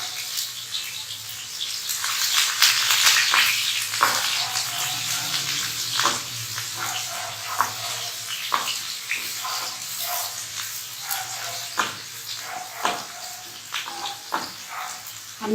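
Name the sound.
onions frying in hot oil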